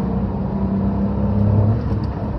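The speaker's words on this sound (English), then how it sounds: "Here we go, foot to the floor," A Toyota Aygo X engine drones steadily from close by at full throttle in second gear, a low rumbling hum that rises slightly in pitch as it builds speed.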